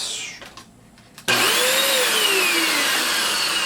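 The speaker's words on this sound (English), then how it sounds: "this vacuum is plugged in" A vacuum cleaner with seized brushes and a two-conductor cord switches on after near silence, its motor starting abruptly and then running loud and steady, with a whine that sweeps as it spins up.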